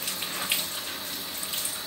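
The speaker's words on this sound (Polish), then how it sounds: "Ten papier muszę namoczyć pod wodą." Water runs steadily from a tap in a kitchen, with faint splashing as paper is soaked under the stream.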